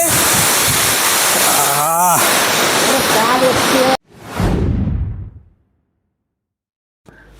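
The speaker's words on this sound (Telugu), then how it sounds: "గాలి మాత్రం వేరే లెవెల్ వస్తుంది వాటర్ ఫాల్ నుండి" A loud, close roar of wind and rushing water at a waterfall buffets the microphone, cuts off abruptly, surges briefly again, then falls silent.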